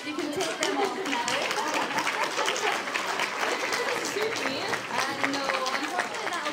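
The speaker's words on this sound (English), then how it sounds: "Round of applause." An audience gives a round of applause, dense and steady clapping that fills about six seconds at an even level, with a few voices mixed in.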